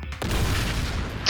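Fireworks burst in the Danganronpa V3 video game, a continuous rumbling boom with crackling fallout lasting over a second, ending in a sharper, louder bang.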